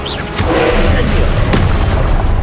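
Incendio fire spell cast in the Hogwarts Legacy video game during a combat trial, a loud booming blast with a sustained rushing roar, with a voice speaking over it.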